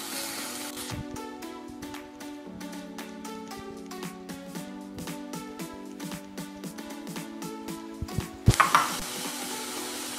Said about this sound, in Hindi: अब ये अच्छे से फ्राई हो गया है।